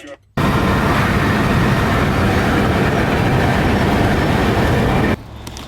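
A Renault Twizy electric car drives along with a steady, loud broadband rush of road and wind noise, constant throughout and cut off sharply at both ends.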